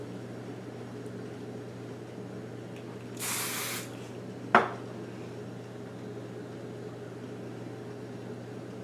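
A single short burst of aerosol spray hisses close by against a quiet background, followed by a faint click.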